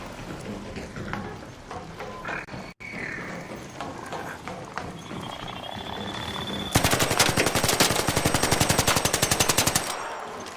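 Gunfire aimed at a Hornet enemy in Arc Raiders, with scattered shots under game ambience, then a sustained rapid machine-gun burst of several seconds, loud and close, before it cuts off.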